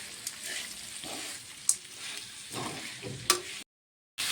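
Spinach being stirred into a rice mixture frying in a pan, a soft steady sizzle with scraping stir strokes and a few sharp clinks of the spatula, briefly cutting out near the end.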